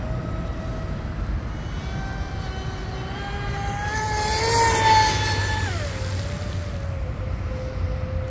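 A Cozy RC M950 radio-controlled speedboat running on 6S or 8S power, its electric motor whining at full throttle in a rising, sustained high-pitched tone that swells as the boat passes closer, then drops in pitch as it moves away.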